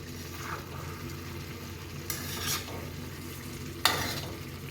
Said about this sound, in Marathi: तर पुन्हा एकदा सगळ्या बाजूने तिला परतून घेऊया.